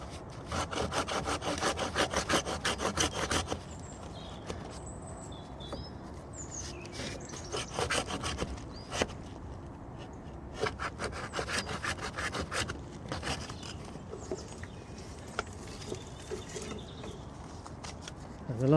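A crossing viburnum branch being cut out with a pruning saw, rapid back-and-forth rasping strokes that are dense and loud at first, then slower, scattered sawing with pauses, outdoors with faint birdsong in the background.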